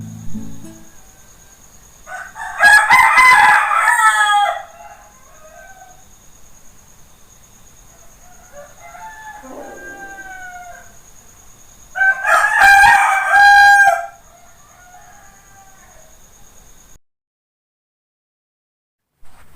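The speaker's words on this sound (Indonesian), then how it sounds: "Ketika itu ayam berkokok" Rooster crowing two loud, drawn-out calls several seconds apart, close by, with softer clucking in between and a steady insect hum behind.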